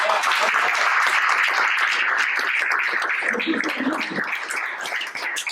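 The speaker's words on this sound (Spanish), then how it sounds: "¿Le da un aplauso a Dios por eso?" A church congregation breaks into dense, loud applause during a sermon, sustained clapping from many hands that holds for about five seconds and eases slightly near the end.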